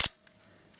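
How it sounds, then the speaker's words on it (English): An Olympus OM-1n 35mm film camera shutter opens on the bulb setting, a single sharp mechanical click at the start, close and quiet, followed by near silence. "I press the shutter button, it remains open until"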